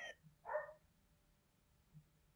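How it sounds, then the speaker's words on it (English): Dog barking indoors, two short yaps close together followed later by a faint third, quiet and sparse against a low hum. "My dog's barking."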